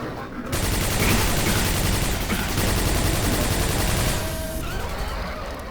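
A Hyper Blaster plasma rifle in Quake 4 fires a dense, sustained rapid burst for roughly four seconds, loud and continuous, then cuts off abruptly with a faint tail of ambient game noise.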